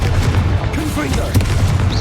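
Confringo fire-spell blasts in the Hogwarts Legacy video game go off as loud, repeated booming bursts amid busy combat sounds.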